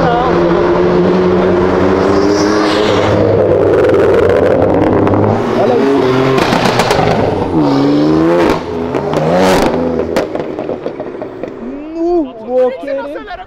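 A green BMW M4 drifting on a city avenue, its engine roaring loudly with rising and falling revs and tire squeal close by, while people talk and shout over it.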